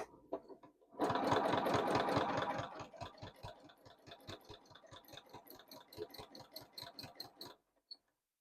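A domestic sewing machine runs in quick rhythmic bursts during free motion quilting on fabric. A loud, dense run starts the clip, then steadier, slightly softer stitching follows and stops abruptly near the end. No one speaks.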